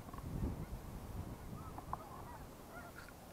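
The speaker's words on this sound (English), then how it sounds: "There goes the geese." Geese honk faintly in the distance at a fishing spot near London, Ontario, a few scattered calls over low outdoor rumble and background noise.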